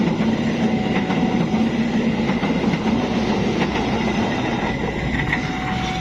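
The Argo Bromo Anggrek passenger train passes close by with a loud, continuous rumble. Wheels rattle and click-clack steadily over the rails for several seconds, and faint squeals rise above the roar.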